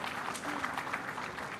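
At a defence conclave, an audience gives a round of applause, a dense patter of many hands clapping that holds steady at moderate volume in a large hall.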